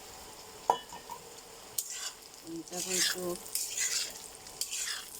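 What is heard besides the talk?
kabuli chickpeas and fried potatoes stirred in a pan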